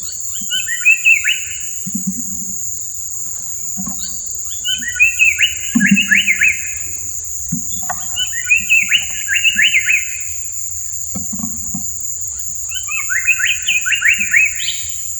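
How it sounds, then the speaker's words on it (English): A Ceylon paradise flycatcher in Sri Lanka gives four bursts of rapid, descending chirping phrases spaced a few seconds apart. Each burst comes with lower, buzzy call notes, all over a steady high insect whine. "Ceylon paradise flycatchers communicate vocally using a variety of songs and calls"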